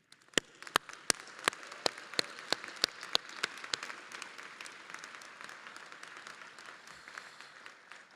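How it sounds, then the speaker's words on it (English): A graduation audience at a university commencement gives a round of applause for musicians and marshals, with a dense wash of clapping and a few loud, sharp claps close by at the start that thin out and fade. "please stand so that we can give you another round of applause of thank you"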